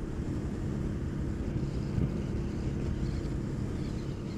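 Steady engine drone with wind rush from a 2016 Ducati Hyperstrada motorcycle ridden near full throttle, a constant, moderately loud roar with no talk.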